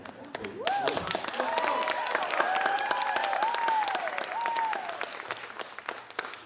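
An audience applauds at a spoken word performance, a steady spread of clapping running beneath a voice that speaks with rising and falling tones over most of the stretch.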